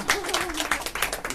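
A seminar audience gives a short burst of applause, individual claps audible at close range with a voice faintly underneath.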